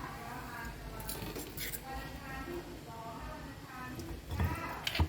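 Spicy cucumber salad being tipped from a pan onto a plate, with soft clinks and a clatter of utensils against the dish near the end, under continuous talking.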